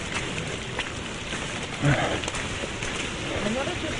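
Steady rain falls outdoors as a dense, even hiss of drops that fills the whole stretch, with a voice briefly murmuring over it.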